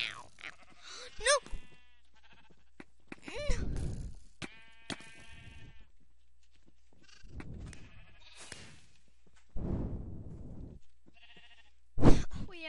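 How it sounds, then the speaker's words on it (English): Cartoon sheep in the video game Sheep Quest bleating in scattered bursts, several short loud calls spaced across the stretch with quiet gaps between. "We have so much sheep."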